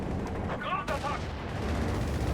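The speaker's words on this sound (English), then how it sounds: "Strafing run in here on the Black Prince." Strafing run gunfire in Company of Heroes 3, striking a Black Prince tank in a match of the Afrika Korps against British forces: a dense burst of rapid shots amid steady battle rumble, with a voice commenting throughout.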